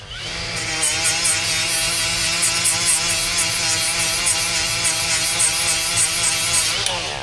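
A 3M bristle disc on a power tool abrades metal with steady, light pressure, making a loud continuous whirring grind for about six seconds before spinning down, close and without talk.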